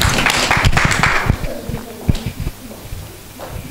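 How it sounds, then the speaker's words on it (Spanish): A short burst of clapping for Valeria during a group interview with 2020 children's presidents in Algirós, dense for about a second and a half, then thinning into scattered claps and fading. "un aplauso a Valeria, sí señor"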